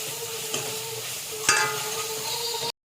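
Masala with ginger-garlic paste and turmeric sizzles and fries steadily in a pan, with a brief stirring scrape near the middle, close and continuous with no talk.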